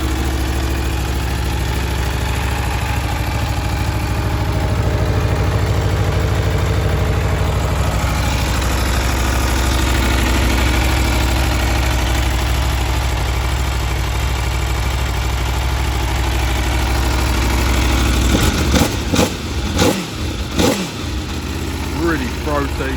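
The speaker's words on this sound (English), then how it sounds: "If we start it up, really nice drum boys the V4s do." A 2022 Aprilia Tuono V4 1100 motorcycle on its standard exhaust idles with a deep, steady, throaty drone close by, then gives a few sharp blips of the throttle near the end.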